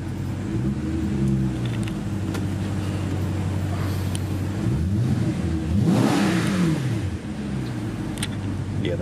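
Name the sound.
sports car engine revving exhaust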